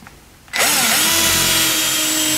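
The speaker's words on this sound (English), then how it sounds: "We're going to pre-drill holes in the cleat and run screws." A power drill bores pilot holes into a wooden mantel cleat, starting abruptly after a quiet moment and running loud and steady with a whirring, winding tone, close by and alone.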